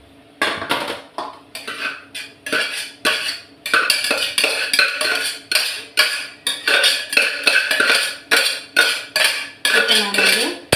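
Cooked white rice being scooped and tipped from one pot into another in a home kitchen, with a steady run of loud, close metal clinks and scrapes of spoon against pot, no talking.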